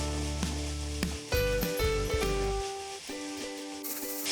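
Onions sautéing in a pan for Indo-Chinese egg Hakka noodles, a steady close sizzle broken by clinks of a spoon stirring against the pan, with a brief scrape near the end.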